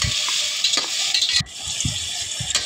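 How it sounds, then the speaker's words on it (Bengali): Onion with garam masala spices frying in oil in a wok for Bengali spicy turkey bhuna, a steady bright sizzle with repeated stirring scrapes and clatter, close and continuous with a short dip midway. "তারপর হচ্ছে সেই ভাজা তেলটাকে কড়াইতে দিয়ে এখন হচ্ছে পেঁয়াজ কুচি দিয়ে দিল। তো পেঁয়াজটাকে ভালো করে এখন ভেজে নিচ্ছে।"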